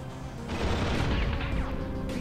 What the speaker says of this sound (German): Ist einfach explodiert, sehr gut.